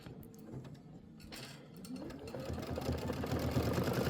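A Kimberbell embroidery machine starts up and stitches a decorative design, its rapid mechanical whirr and needle chatter building from faint to a steady, close, rhythmic hum.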